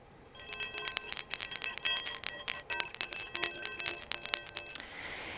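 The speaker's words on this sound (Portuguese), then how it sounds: "No budismo, também há o sino e esse som." Rapid, bright metallic ringing strikes of a Buddhist bell repeat for several seconds in a dense, shimmering series, then stop abruptly, leaving a soft hiss.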